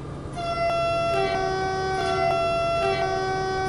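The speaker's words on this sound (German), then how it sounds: "Ich spiele mich manchmal so mit den Hörnern." Loud, sustained multi-tone train horn blasts from a Taurus locomotive in Train World Simulator, sounding repeatedly, chord-like and steady with brief shifts in pitch; no talking.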